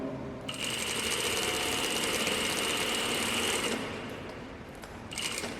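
Home sewing machine running steadily while stitching the side seam of beginner elastic-waist pants, a loud continuous mechanical whir that slows and stops near the end before a brief restart.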